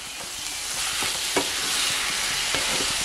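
Cabbage curry is stirred in a pan over a constant, bright sizzle. Soft scraping strokes repeat close by and no one speaks.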